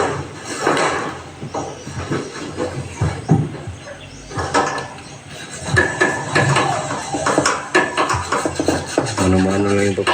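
A hand saw cuts through metal, repeated rasping strokes in an uneven rhythm, close and fairly loud, with some background clatter and occasional voices.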